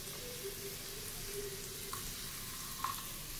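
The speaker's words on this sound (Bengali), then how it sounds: "প্রথমে পেঁয়াজ কুচি দিয়ে দিচ্ছি, সাদা তেল গরম করে।" Chopped onion frying in hot white oil, a quiet, steady sizzle with a couple of faint clinks from stirring.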